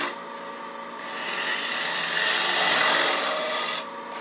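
A lathe tool takes a crank cut on a spinning wooden wig stand, a continuous rasping scrape that swells in the middle and eases off at the end, close and steady, with no voices.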